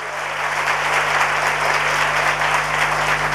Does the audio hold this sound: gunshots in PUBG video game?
no